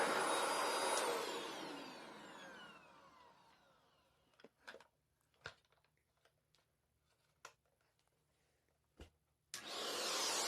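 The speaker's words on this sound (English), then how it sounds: "This thing is a very powerful vacuum cleaner with a new bag." An Oreck XL Pro 5 canister vacuum cleaner with a new bag whirs loudly, then winds down to silence. A few scattered clicks and knocks follow before the motor roars back on at the end.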